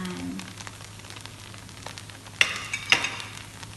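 Fried bihon noodles being stirred together with fried egg in a hot pan, a steady soft sizzle with a couple of sharp scraping clinks of the utensil near the end.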